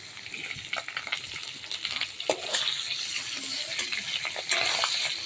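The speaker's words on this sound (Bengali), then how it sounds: "বেশি ভাজবো না, একটু হালকা ভেজে নেব" Fish pieces crackle and sizzle in hot oil, with sharp pops and spatters over a steady frying hiss.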